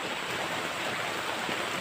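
A river swollen with floodwater from a dam rushes in a steady, even hiss of flowing water, with no voices, over a brief moment.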